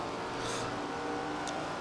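A race car engine on partial throttle at Eldora dirt track in the SRX video game, a steady droning whine with layered harmonics, close and continuous across a brief stretch.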